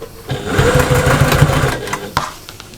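A sewing machine stitches up the sides of a fabric pouch with a loud, close motor whir and rapid needle chatter for about two seconds, then stops with a clunk.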